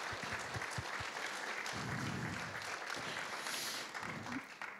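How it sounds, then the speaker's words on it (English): Audience applause at a book tour event rises and holds steady for several seconds, a close, dense clatter of clapping with a few voices faintly underneath. "Can we just give them a round of applause?"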